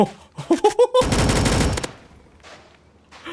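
Rapid bursts of gunfire in the Roblox desert driving game A Dusty Trip: a few sharp separate shots, then a dense loud fusillade lasting about a second, fading into quieter game ambience.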